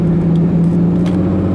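A supercharged 2001 Plymouth Prowler's engine hums loudly from inside the car as it pulls forward with a steady, rising tone, no voices.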